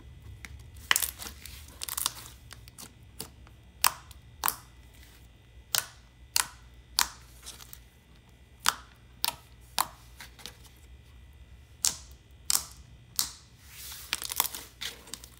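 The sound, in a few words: thick slime being played with, thwacking and clicking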